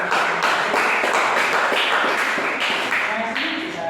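Students in a classroom clap together in a steady, loud burst of rhythmic hand claps close by, with a voice speaking briefly near the end.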